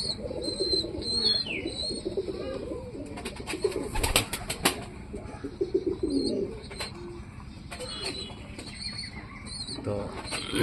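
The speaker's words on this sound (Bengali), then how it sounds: "বহুত বড় কবুতর।" Very large pigeons coo at close range, with soft, repeated low calls. Scattered sharp clicks and rustling mix in over a quiet background.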